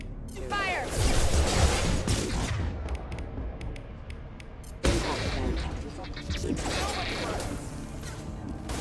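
A Mass Effect firefight, with bursts of rapid gunshots and mechanical clatter, a sharp crash near the middle and continued shooting after it, and voices shouting over the fire.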